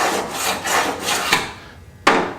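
Modified screwdriver with a dovetail-cut tip dragged along a dovetail track of a CS-1 sifter, scraping out old glue and gasket material in loud, rhythmic rasping strokes that fade out, ending with one sharp scrape.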